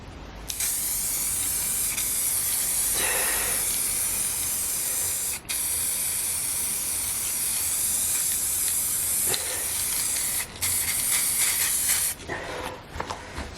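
An aerosol can sprays the first coat of paint onto a bicycle frame in long continuous hissing bursts, close and loud, with a couple of very brief pauses between passes and no talking.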